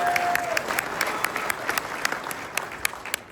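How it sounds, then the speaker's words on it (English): A keynote audience claps steadily with sharp individual hand claps standing out, sustained applause at moderate loudness throughout. "big round of applause for Tanner"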